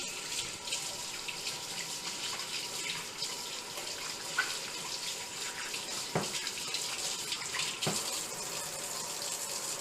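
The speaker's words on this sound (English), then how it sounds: "A quick wash over here." Tap water runs steadily into a kitchen sink as a leg of lamb or ham is rinsed under it, a continuous close splashing wash with a couple of brief louder knocks.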